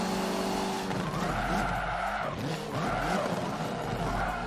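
A touring race car in Forza Motorsport 7 brakes hard and its tires skid and squeal, a loud sustained screech over the steady engine roar that eases briefly and then returns.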